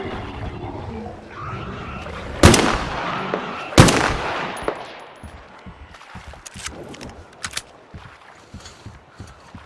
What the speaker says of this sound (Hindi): इनके तो सर में गोली मारो वरना तो ये मरेंगे भी नहीं।